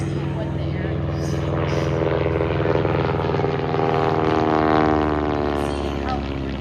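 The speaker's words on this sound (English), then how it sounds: "This aircraft is probably cruising about 100 miles an hour, maybe 110 miles an hour." Steady drone of a Waco UIC cabin biplane's engine and propeller in cruising flight, a loud continuous rumble with a constant hum, heard from inside the cabin with a voice talking over it.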